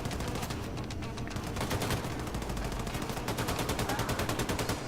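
Assault rifle fire in the video game Wolfenstein 2: sustained, loud automatic bursts with a fast, even rhythm of shots, briefly easing and then resuming rapid-fire for about five seconds, with no speech.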